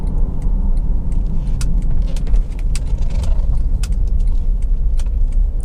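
A car drives and swings round in a turn, with a steady, close engine and road rumble throughout and faint light ticking clicks scattered over it.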